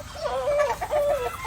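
A broodcock rooster and hens on a farm in the Philippines give a short run of close, throaty clucks and warbling calls, several bursts rising and falling in quick succession.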